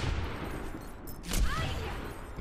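A single sharp Widowmaker sniper rifle shot cracks out from the Overwatch shooter game against a hazy background of game ambience.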